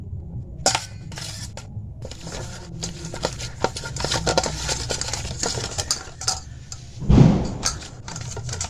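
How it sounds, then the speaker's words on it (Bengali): A metal pot is rubbed with ghee, giving close, dry clicks, scrapes and light metallic taps in an irregular pattern, with a louder clattering knock near the end and no talk. "এবার এতে ঘি কিছুটা মাখিয়ে দেবো"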